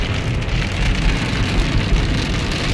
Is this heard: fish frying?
no